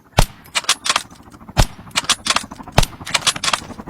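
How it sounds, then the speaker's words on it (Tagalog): Gunshots in Call of Duty ring out from behind the player, with three sharp, loud single cracks about a second apart and quicker, lighter bursts of fire between them. "May bumabaril po sa akin sa likod."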